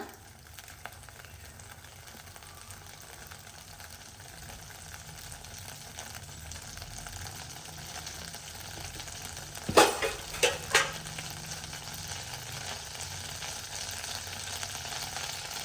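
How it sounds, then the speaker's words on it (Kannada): Cumin seeds drop into hot oil in a home kitchen pan, raising a steady, close sizzle with a few sharp crackles and pops midway. "ಇವಾಗ ಇದಕ್ಕೆ ಒಂದು ಸ್ವಲ್ಪ ಜೀರಿಗೆ ಹಾಕೊಳ್ಳೋಣ"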